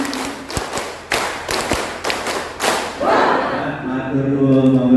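A room of teachers at a workshop claps a patterned rhythm: two quick groups of sharp, loud claps fairly close together, followed by a swell of crowd voices and laughter.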